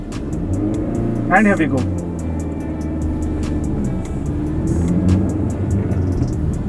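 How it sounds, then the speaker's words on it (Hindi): A 2021 Honda Amaze facelift VX manual revs its engine in first gear with the handbrake on, a steady mid-pitched hum rising into a brief louder rev, heard from inside the cabin while someone talks briefly. "seat belt on, hand brake on to first gear, raving the motor"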